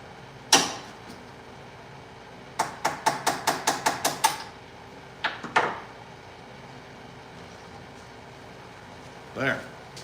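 Hammer tapping a rattling clutch part out of a radio-controlled model: sharp metallic strikes, first a single hit, then a quick run of eight, then a few more, with a last knock near the end.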